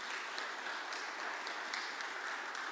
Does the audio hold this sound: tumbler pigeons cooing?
no